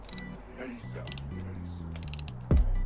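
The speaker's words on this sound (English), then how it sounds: "Let me grab the socket so we can open that up." Ratchet socket wrench working on the transmission plug of a Harley-Davidson Dyna FXDLS, quick clicking pawl bursts separated by short pauses, followed by a dull metallic clunk at the end, close and fairly quiet.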